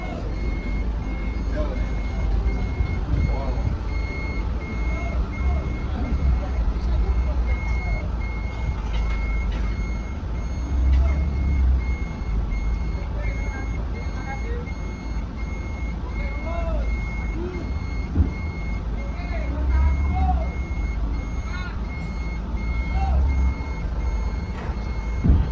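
Steady repeating electronic warning beeps from the levelling function of a Jetbus 5 SHD bus, pulsing evenly for the whole stretch under engine hum and cabin noise while someone talks.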